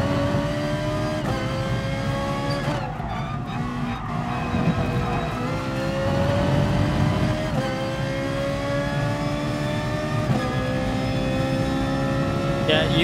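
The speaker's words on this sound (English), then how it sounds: "Ferrari going loose there" Ferrari race car in GT Sport sliding loose, engine revving and tires scrubbing with rising and falling pitch sweeps and gear shifts, loud and continuous with a voice talking over it.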